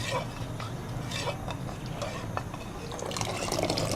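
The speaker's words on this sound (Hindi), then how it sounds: "साथ साथ चम्मच हिलाते जाएं और इसको डालते जाएं इस तरीके से।" Custard mixture is poured into a pot for phirni kheer while a spoon stirs it, giving a steady, close liquid trickle and wet stirring clinks throughout.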